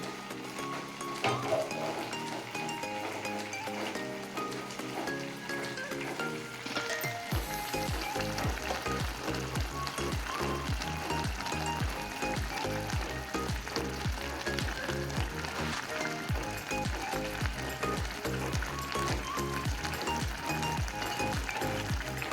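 Sardine thoran with raw mango and curry leaves stirring and sizzling in a pan, a steady close frying hiss with rhythmic scraping stirs throughout, preceded by quieter kitchen sounds.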